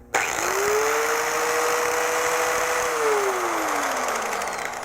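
A cheap Harbor Freight angle grinder switches on with a sharp start, spins up to a steady whining motor drone that holds for a few seconds, then winds down toward the end.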